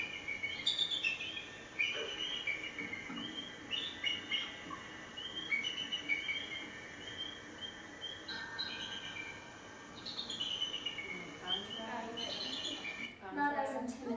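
Bald eagle calls from a played recording: a series of thin, high chirping and twittering bursts coming in irregular clusters, with quieter gaps between them, over faint background noise.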